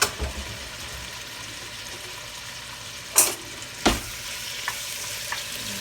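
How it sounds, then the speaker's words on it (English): Beef searing in a pot makes a soft, steady sizzle, broken by a couple of sharp clanks and lighter taps as the meat is moved about, with no voices. "I'm gonna put this meat in the pot here, and I'm gonna get a little sear on it."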